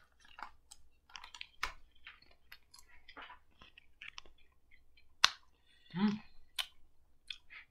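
Apple Cider Oreo cookies are chewed up close in quiet, irregular crunchy bites and clicks, separated by short pauses, with a faint voice briefly heard.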